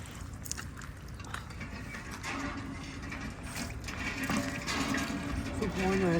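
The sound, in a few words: hand pump being worked for water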